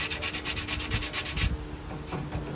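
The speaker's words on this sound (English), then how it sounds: "So using a sanding block, 80 grit." Hand sanding with an 80-grit sanding block on an old Chevy C10 grill piece: quick, regular back-and-forth rasping strokes close up, then slower, more uneven rubbing, with no talking.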